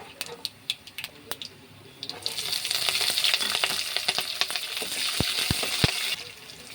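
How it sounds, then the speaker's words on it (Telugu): Green chillies fry in oil for tomato rice with a close, crackling sizzle. Sharp utensil taps and clicks punctuate the sizzle at the start and again near the end. "ఆలోపు పచ్చిమిర్చి ఫ్రై అయ్యేలోపు ఇవి కూడా రంగు మారి"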